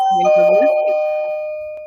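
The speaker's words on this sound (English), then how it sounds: "Doorbell." A two-tone electronic doorbell chime rings once, with its bright tones lingering and slowly fading while a voice talks briefly underneath.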